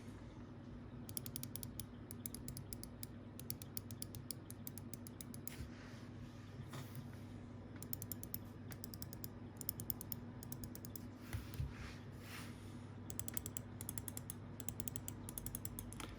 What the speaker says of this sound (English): we can just do a click rundown of these